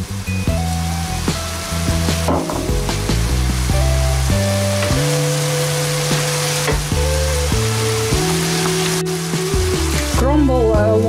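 Ham sizzling in a pan while cooking pasta carbonara, a steady loud hiss of frying running the whole time beneath prominent background music with shifting tones.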